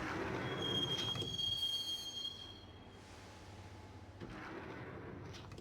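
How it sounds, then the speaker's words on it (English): Subway train ride in the video game Max Payne: a rumbling car with a sharp, sustained wheel squeal early on that fades, then a quieter run before the rolling rumble swells again. "the train doors had already shut behind me, and I was in for the ride"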